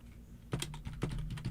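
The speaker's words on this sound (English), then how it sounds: "Sorry, I typed slow." Keys clatter on a computer keyboard in a short, quiet run of irregular taps close by, starting after a half-second of near silence with a faint steady hum underneath.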